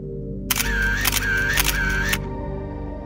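A camera shutter fires in three quick clicks with a whirring motor wind between them, loud and close, over a low steady background hum, as pictures are taken.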